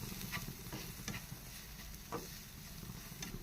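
Steady sizzling of spices frying in a pan for egg samosa filling, with a spoon scraping and stirring at irregular intervals; close and moderately loud, no voices.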